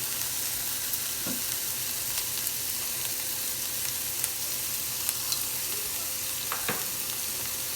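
Onions and dried chillies sautéing in a pan for a spicy Sri Lankan-style black chickpea sundal give a steady, close sizzle, with a couple of soft stirring taps and no talking.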